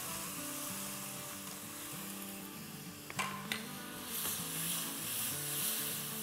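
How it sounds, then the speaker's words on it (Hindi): Fresh crushed chillies sauté quickly in a preheated pot for potato soup, giving a soft, steady sizzle with a couple of sharp utensil clinks midway, under a low mechanical hum. "देखिए हमने इतना प्री हीट किया हुआ था पतीला कि कैसे झटपट सॉटे हो गई"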